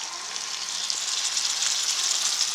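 Dried fish (karuvadu) hits hot oil in a pan along with brinjal, giving a steady, close bright sizzle with faint crackles, with no talking.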